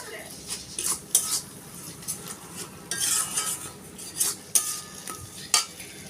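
Ground spice paste being stirred and cooked down in oil for a fish roe dish: a metal utensil scrapes and clinks against the pan in irregular bursts over a low, faint sizzle, with no voices.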